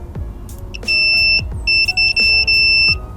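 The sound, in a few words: multimeter continuity beep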